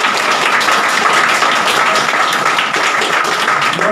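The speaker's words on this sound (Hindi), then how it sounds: "ताली बजाना" An audience at a motivational talk by a life coach claps on request, a loud, steady spread of many hands clapping close by throughout, with no talking over it.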